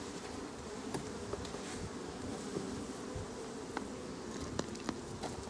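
A close, continuous buzz of many honey bees rises from an open hive, with occasional light knocks and clicks from the hive being worked.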